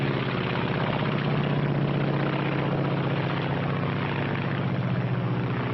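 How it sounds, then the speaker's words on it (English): A Japanese Zero fighter plane's engine drones as a steady, loud propeller roar that holds even and unbroken throughout, with a muffled, narrow old-film quality. "This is the Japanese Zero."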